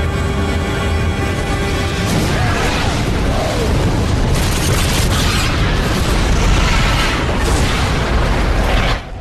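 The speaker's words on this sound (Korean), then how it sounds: "먼저 폭발하게 된 것은 연합군의 잠수함 쪽이었습니다" A submarine explodes in a World War II film, a loud sustained blast and roaring rumble filling the whole stretch with heavy, dense noise before cutting off abruptly at the end.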